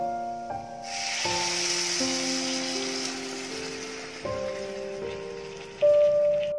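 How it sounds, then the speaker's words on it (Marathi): Steamed mutton drops into sizzling spice masala in a pan, a bright hiss of frying that rises at once and holds, with hollow tones and clatters of the pan and spoon beneath it. "त्याच्यात वाफवून घेतलेलं आपण मटण टाकू."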